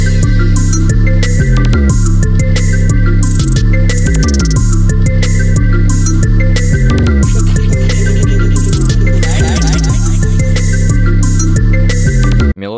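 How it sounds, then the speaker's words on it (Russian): Tread-style hip-hop beat built from a sampled melody and drums, playing loud and continuous with a steady rhythmic pattern and dense layered tones, cutting off abruptly at the end; no talking. "Вот как звучит этот бит."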